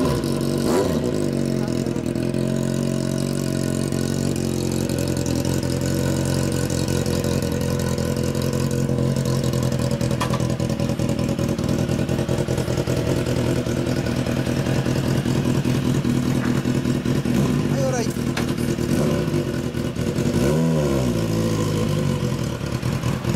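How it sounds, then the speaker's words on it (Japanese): A Kawasaki ZXR400 motorcycle with an aftermarket BEET exhaust idles with a deep, throaty note, then is blipped in a few sharp revs near the end, loud and close. "エンジン聞かせて。"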